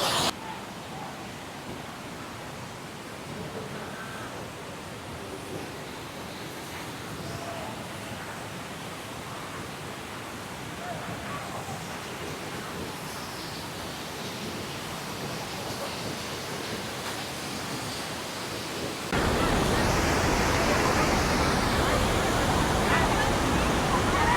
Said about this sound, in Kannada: ಜಿಗದು ಹೊಂಟೈತಿ ನೀರು ಹಿಂಗೆ ಪುಟದ ಹೊಂಟದ್ ನೀರು